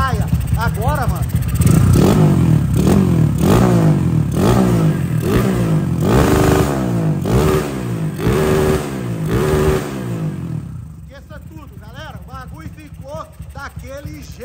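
A Honda Titan motorcycle engine, recently repaired after an electrical fault that caused backfiring, revs up and down in a rapid series of sharp throttle blips nearby, then settles to a lower idle as someone talks.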